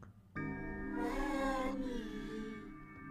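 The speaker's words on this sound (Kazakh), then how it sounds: "О, мысық." A cat gives one drawn-out, wavering meow that starts abruptly, swells, then tails off slowly. It is fairly quiet and close, with no talking.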